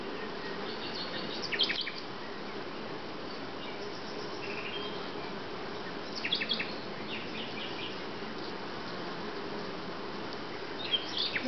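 Bees buzz steadily around hives, a close, continuous droning hum with a few brief louder passes and faint bird chirps in the background.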